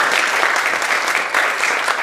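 A church congregation claps warmly and steadily to welcome a visitor, a dense, even burst of many hands filling the room.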